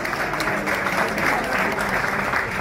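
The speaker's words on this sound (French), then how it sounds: "Est-ce que vous pouvez applaudir pour vous-même, s'il vous plaît?" An evening gala audience claps for themselves, a dense, steady burst of crowd applause at close range that holds evenly throughout.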